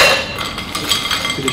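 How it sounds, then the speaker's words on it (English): Ice cubes dropped into a cocktail shaker for a Ramos Gin Fizz, a brief burst of bright clinks and rattles, close and fairly loud. "We're gonna add our ice cubes"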